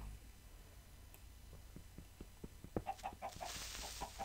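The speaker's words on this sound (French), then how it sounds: "Oh, ça fait spawner des poulets?" Chickens spawning in a video game cluck in short, quick repeated calls that grow denser and louder toward the end, with a faint ticking underneath.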